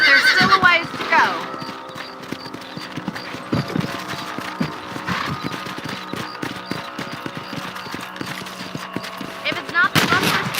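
Horse hooves clip-clopping steadily while riding across a ranch property in Red Dead Redemption on PC, with a horse whinny and scattered gunfire, under someone talking throughout.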